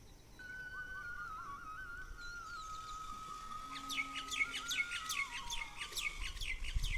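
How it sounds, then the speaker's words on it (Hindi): An Indian cuckoo calls outdoors over a steady ambient hum, with one long sustained whistle joined midway by a burst of rapid, repeated chirping notes. "जो एक काफल पाको वाली चिड़िया है वो अभी आवाज़ कर रही है"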